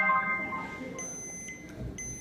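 The Gosh!LinkFone app's default alarm sounds on an iPhone after Bluetooth is switched off: evenly spaced, bright electronic tones ring out over low room noise.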